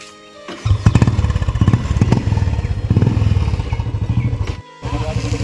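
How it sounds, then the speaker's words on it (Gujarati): A motorcycle starts up and rides off, its engine loud and close with a steady, rhythmic putter that cuts out briefly near the end before returning. "તો હવે આપણે બાઇક ચાલુ કરીએ ફરીથી"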